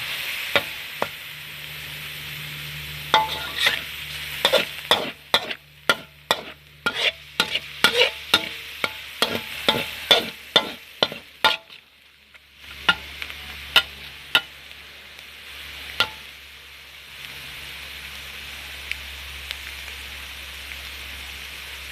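Minced pork is stir-fried in a pan, with a constant sizzle under rapid, rhythmic clacks of a spatula scraping and tossing the meat up close, a short pause, then more stirring at a gentler pace.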